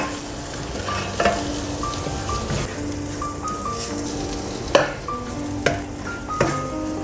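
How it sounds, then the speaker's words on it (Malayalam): Tomatoes with pepper, coriander and garam masala powders frying in a pan for a tender coconut chicken curry, a steady close sizzle broken by scraping stirs and a few sharp spoon knocks against the pan. "ഇനി നമുക്കിതിനെ നന്നായിട്ടൊന്ന് മൂപ്പിച്ചെടുക്കാം."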